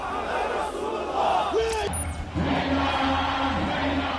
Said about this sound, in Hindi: ईरान की राजधानी तेहरान में हजारों की भीड़ ने इजराइल के हमले के खिलाफ कई तरह से अपने आक्रोश का इजहार किया।